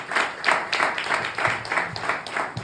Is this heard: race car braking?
no